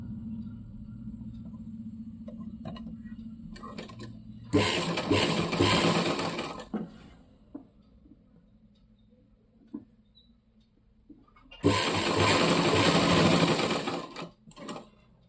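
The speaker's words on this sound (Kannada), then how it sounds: "ಇವಾಗ ಈ ಕಡೆಯಿಂದ ಸ್ಟಿಚ್ ಮಾಡ್ಕೊತಾ ಹೋಗಬೇಕು." An electric sewing machine stitches a trouser side seam in two loud whirring runs of about two and three seconds, separated by quieter handling clicks and a low background hum.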